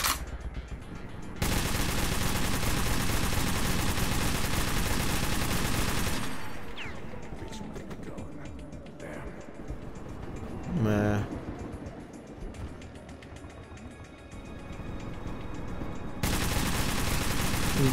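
Gunfire in the Metro 2033 Redux video game, with dense loud bursts at the start and end and quieter scattered shots and game noise in between.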